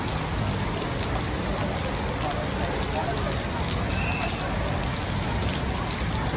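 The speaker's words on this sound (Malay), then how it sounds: "Suasana sekarang ni hujan." Heavy rain pours steadily at the Suria KLCC entrance in Kuala Lumpur, a dense, loud, continuous hiss of drops striking pavement and surfaces close by for the whole stretch.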